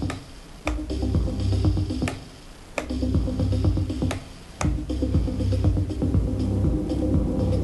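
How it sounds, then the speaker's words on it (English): A track runs through a DJ mixer's echo effect as the volume is pulled down, leaving clicky rhythmic hits with trailing repeats while the level dips and comes back. "if I were to bring the volume down, you'll hear the echo tail off."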